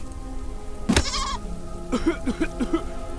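In the video game Deponia Doomsday, a goat gives one sharp bleat, then a quick series of short wavering bleats follows, loud and close against a quiet humming background.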